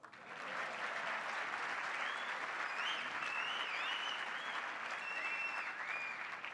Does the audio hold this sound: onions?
no